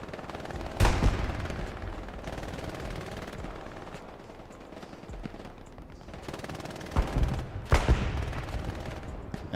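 Tank machine gun fire in Hell Let Loose, distant bursts of rapid automatic gunfire with a couple of sharper, louder volleys near the start and end, under a quiet commentator's voice and steady battlefield rumble.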